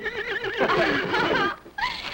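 Trigger, a blond palomino horse, gives a loud close neigh, a long quavering whinny that rises and falls, then cuts off and returns as a short second burst.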